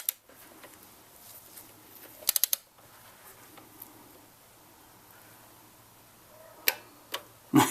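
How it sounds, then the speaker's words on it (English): Inch-pound torque wrench tightening a spark plug to 70 inch-pounds on a 2001 Dodge Dakota 4.7L engine: a few quiet ratcheting ticks and a quick clustered click burst, then sparse sharp clicks near the end against a faint hum. "I'm going to go ahead and get my inch-pound torque wrench and torque that down to 70 inches"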